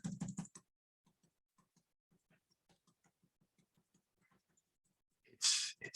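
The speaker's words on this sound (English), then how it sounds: "some of us are really fast at using the keyboard and transcribing this" Fast typing on a computer keyboard: a brisk cluster of clacks, then a long run of light, evenly spaced key taps, close and fairly quiet, ending with a louder burst of rustle.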